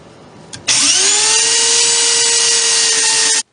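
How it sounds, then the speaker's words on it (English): A belt sander runs for about three seconds while smoothing pocket hole plugs on a lumber desk. It starts abruptly, its whine climbs briefly as the motor spins up, then holds steady and loud before cutting off sharply. "I use my belt sander to sand down the pocket hole plugs."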